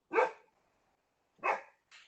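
A dog barks three times during a council meeting, two strong barks about a second apart followed by a shorter, softer one, heard alone against near silence.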